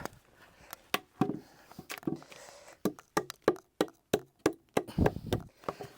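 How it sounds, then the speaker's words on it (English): Sharp wooden knocks from a straight-claw hammer, a dozen or so irregular blows, some in quick pairs, close and fairly loud with no talking. "I'll just get my hammer because mine's got a straight claw on it."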